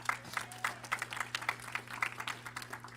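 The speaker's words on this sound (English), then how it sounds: "clap it up for him" Church convocation audience applauding, a steady patter of claps with a slightly irregular rhythm, moderately faint and at some distance, with a low steady hum underneath and no speech.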